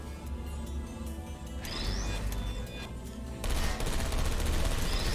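Automated turrets in the video game Portal Stories: Mel fire rapid bursts. The clatter is dense and loud, with mechanical whirs and a sharp sweeping tone, and grows heavier partway through.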